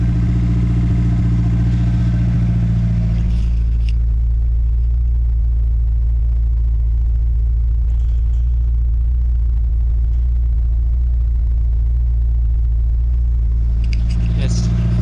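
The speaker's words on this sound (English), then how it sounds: "Definitely idling high, so I'm gonna let the car just run for a couple minutes" A Nissan S13 fitted with an SR20DET engine and an aftermarket eBay turbo idles high, producing a steady, loud, low rumble that continues without a break, with a couple of brief higher bursts along the way.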